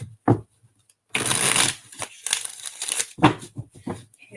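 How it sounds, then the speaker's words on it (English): A deck of cards being shuffled, with a quick riffle, a pause, then a longer crisp riffling burst followed by softer fluttering and tapping as the cards settle. "one more shuffle and we'll go"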